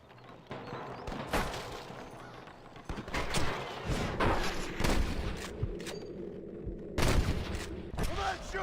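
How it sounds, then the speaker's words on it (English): Sharp gunshots crack out in scattered bursts and volleys amid a busy, chaotic battle scene in Red Dead Redemption, some close and loud, others more distant. "I can hear more gunshots"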